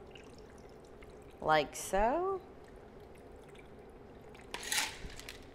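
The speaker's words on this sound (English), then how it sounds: "And then you just pour it in" A shaken mint cocktail is poured into a glass: two short bursts of liquid splash and gurgle in quick succession, then a faint clink, with a brief spoken remark at the end.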